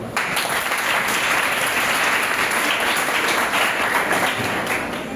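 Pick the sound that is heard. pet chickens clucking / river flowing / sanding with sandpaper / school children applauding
school children applauding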